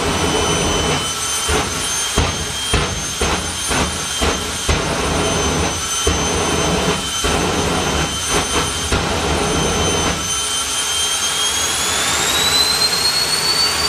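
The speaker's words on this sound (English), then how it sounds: "one of my favourite parts of our day here is the first jet car run" A jet-powered drag racing car's turbine engine roars loud and close at a drag strip event, a sustained high whine and blast that holds steady before climbing in pitch near the end as the turbine winds up.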